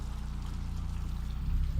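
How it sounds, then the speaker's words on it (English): Water flowing in Horizon Zero Dawn: The Frozen Wilds, a steady pouring rush with a low rumbling body that swells slightly near the end, continuous and fairly close with no talk. "The water's flowing, just not where it needs to."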